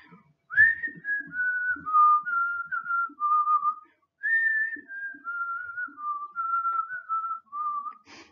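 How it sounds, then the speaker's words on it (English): A person whistles the slow, simple melody of We Three Kings in two phrases, clear and close, with a short pause between them. "Okay, I'm going to try to whistle it."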